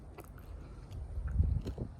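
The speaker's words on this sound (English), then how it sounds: "The crunch from the chicharron skin." Close, quiet crunching as someone bites into and chews crispy pork belly chicharron skin, a few soft crackling bites growing into a denser munch, no talking.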